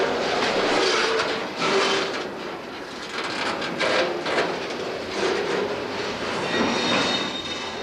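Seaboard RS3 diesel locomotives passing on the tracks in West Palm Beach, Florida: a steady roar of rolling wheels and rail clatter with rhythmic clicks, moderately loud and fairly close, no voices.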